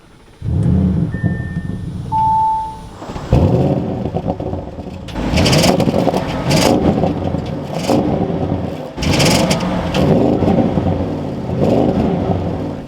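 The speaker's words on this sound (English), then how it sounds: "Let's fire this RS6 up though." A 2022 Audi RS6 Avant fires up after a few chimes, its engine catching with a loud burst and then settling into a rumbling idle broken by repeated sharp revs, close and with no talk.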